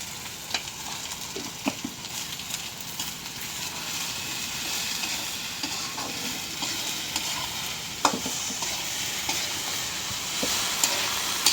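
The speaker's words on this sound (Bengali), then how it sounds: "পেঁয়াজ মরিচ ভেজে নিলাম, দিয়ে দিলাম ভেন্ডি, দিয়ে দিলাম লবণ," Okra fries with onion and chili in a pan, giving a steady sizzling hiss broken by scraping stirs and spatula knocks against the pan, with no talking.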